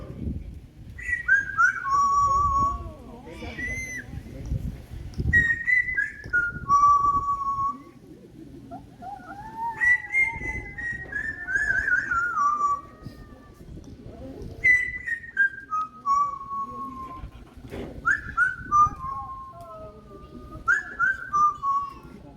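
At a bird show, a bird whistles a wandering melodic tune in repeated phrases, sliding notes rising and falling with short pauses between bursts, close and clear.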